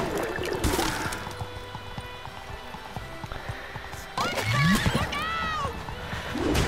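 A horse in the video game SpongeBob SquarePants: The Cosmic Shake whinnies loudly in a high, wavering call, with clip-clop hooves and game sounds around it and brief talk early on.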